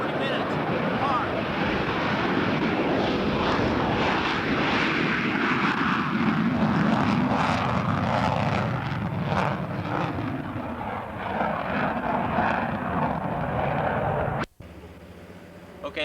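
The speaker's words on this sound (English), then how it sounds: "there were a couple of F-16s taxiing out for takeoff, so we thought we'd take this opportunity and show you how loud and what they look like" F-16 fighter jets taxiing out for takeoff at a military base during Operation Desert Storm in 1991: a loud, steady, broadband jet roar that holds for about fourteen seconds and then cuts off abruptly. A voice may be present beneath the noise.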